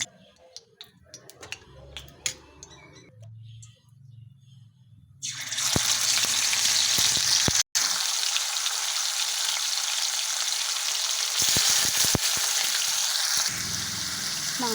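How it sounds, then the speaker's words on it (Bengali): Chicken pieces go into hot oil in a wok, bursting into a loud, close, continuous sizzle that roars on for about nine seconds with one brief break, after quieter kitchen clatter. "আবার একে একে মাংসের পিসগুলো দিয়ে ভেজে নেব।"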